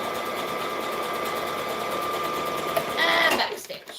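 A sewing machine runs steadily as it stitches over pins while making a McCall's M7314 garment, its whirring drone fairly close and constant, briefly rising in pitch near the end before it stops.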